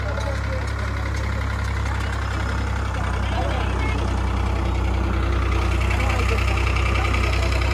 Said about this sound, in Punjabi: ਆਹ ਆ ਗਿਆ 35 horsepower ਦਾ ਟਰੈਕਟਰ, ਇਹਨੂੰ ਖਿੱਚ ਸਕਦਾ ਟਰੈਕਟਰ ਨਾਲ ਚੱਲਣ ਵਾਲਾ ਰੋਟਰੀ ਵੀਡਰ